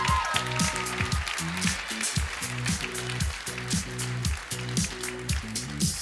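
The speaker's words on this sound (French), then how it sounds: "On peut l'applaudir." Audience applause at a master's graduation ceremony, a moderate steady clapping wash heard under a loud rhythmic musical beat that runs throughout.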